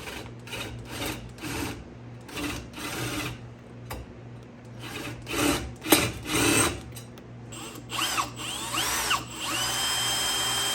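Power drill whirring in repeated short bursts as it pre-drills oak, with a steady background hum; close and fairly loud, no talking.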